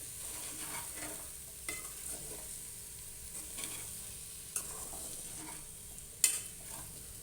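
Chamagadda (taro root) curry being stirred in a pan over a slow flame, with a soft steady sizzle and a few sharp scrapes of the spoon against the pan.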